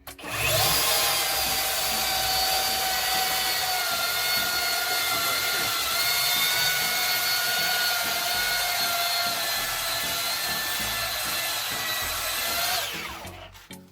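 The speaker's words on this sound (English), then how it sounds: "I'm using a cordless belt sander to try and smooth out some of the raw, rough parts of this." Cordless belt sander runs continuously over rough raw wood for a ladder build, a steady whining grind with a high tonal hum, close and loud, spinning down at the end.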